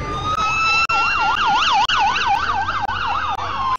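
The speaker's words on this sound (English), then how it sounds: "Sirens blared as people lined the streets in anticipation of the celebration" Wailing sirens from emergency vehicles sound at the start of the 2011 Memorial Day parade in Canoga Park, Los Angeles, rising and falling in a steady, loud sweep that continues throughout, with faint clicks but no talk.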